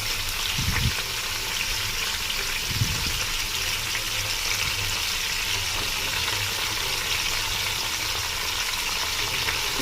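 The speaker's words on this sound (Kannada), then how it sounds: "ಇದು ಅಂದರೆ ಸ್ವಲ್ಪ ಎಣ್ಣೆಲಿ ತುಂಬ ಫ್ರೈ ಆಗಬೇಕು" Goat head and trotters fry in oil for sambar, producing a steady, moderately loud sizzle with bubbling throughout and a couple of low knocks near the start.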